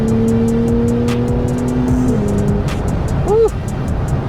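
A 2022 Porsche 911 Turbo S engine roars steadily under hard acceleration, pitch climbing then dropping at a gear change, with a brief squeal near the end.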